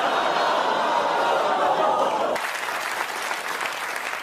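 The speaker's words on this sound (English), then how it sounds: "You clapped too early." Studio audience applauding steadily at a comedy show after an offensive joke, loud sustained clapping that fades slightly partway through, with a few chuckles mixed in.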